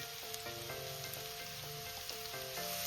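Grated carrots frying in ghee for gajar halwa, a dense close sizzle like light rain, with small spattering pops over a steady hiss.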